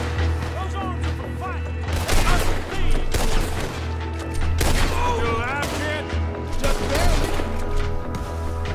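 A Gatling gun blazing away in Red Dead Redemption 2 on a wartime battlefield: loud, dense bursts of rapid gunfire and booms, nearly continuous, with voices and a tonal game soundtrack mixed underneath.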